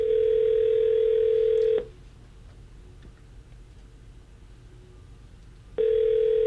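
A telephone line gives a loud, steady tone that cuts off for about four seconds of quiet line hiss and then comes back on.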